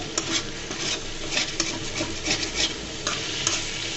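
Eggplant curry cooked in plenty of oil is stirred in a pan, a continuous sizzle broken by repeated scraping strokes of the spoon and a few sharp clinks against the metal.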